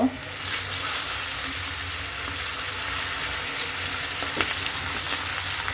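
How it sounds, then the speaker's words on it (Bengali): Chicken frying in oil for Saudi kabsa, a steady bright sizzle filling the whole stretch with faint clinks and stirring noises, close and continuous with no talk. "এখন চিকেনটা ভেজে নিব।"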